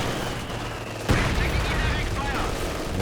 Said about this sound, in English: That heavy mortar is lethal.